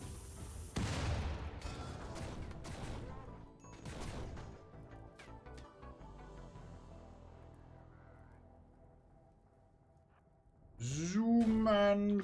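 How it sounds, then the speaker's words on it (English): An ammo stockpile detonating in the RatConnect video game: a sharp blast followed by a scattered string of popping explosions and crackles that gradually thin out, then a rising synthetic tone near the end. "Ammo stockpile detonated."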